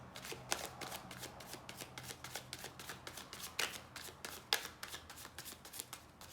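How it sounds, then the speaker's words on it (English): Tarot cards riffled and shuffled by hand at close range, a quiet run of quick crisp flutters and soft slaps in an irregular rhythm, with no talking. "Last shuffle, then I take from the middle."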